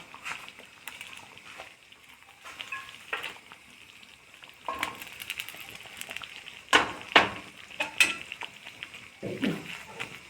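Traditional sweet pongal (sakkarai pongal) cooking in a pot, with soft bubbling and sizzle broken by louder spoon stirring and clinks, close by and growing busier toward the end.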